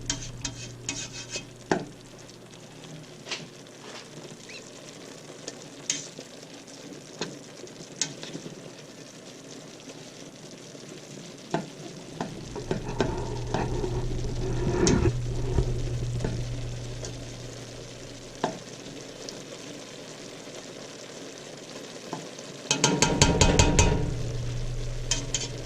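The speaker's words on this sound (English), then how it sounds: "Let this cook for another minute, and then I'm going to go ahead on and drain my beef" Ground beef for one-pot taco soup sizzles and fries in a pot with a steady crackle, while a spoon scrapes and stirs now and then. The frying swells louder in bursts of busy stirring near the middle and at the end.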